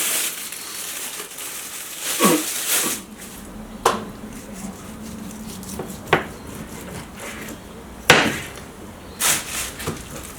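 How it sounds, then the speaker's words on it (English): A knife works through beef on a board before grilling, giving a series of soft scraping strokes and sharp taps against the wood, spaced irregularly and close up. "I'm going to slice up the beef"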